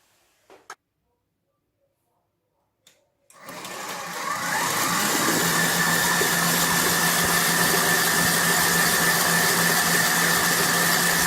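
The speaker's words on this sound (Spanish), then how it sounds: "esto vamos a batirlo y vamos a lograr la consistencia de una mousse" An electric mixer beats cake filling to a mousse consistency, starting up after a few faint knocks and then whirring steadily, loud and close, with a constant motor drone.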